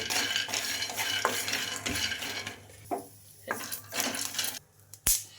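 Peanuts fry in a pan for rava uttapam while a spoon stirs them, giving close scraping and clattering strokes over a light sizzle, with a sharp metallic knock near the end.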